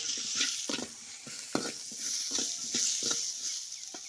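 Dried anchovies fry and sizzle in a pan for a curry while a utensil stirs, with repeated scraping strokes over a steady close sizzle.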